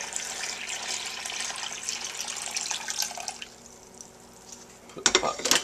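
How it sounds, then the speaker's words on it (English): Cold water poured from a coffee pot into the rear reservoir of a drip coffee machine, a continuous bright splashing that tapers off, followed by a couple of clinking handling noises. "Pour the water"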